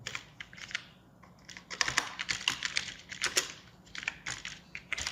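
Rapid typing on a computer keyboard while entering a wall paint material in Revit 2019. The keystrokes come in close, steady bursts with short pauses between them, and no one speaks.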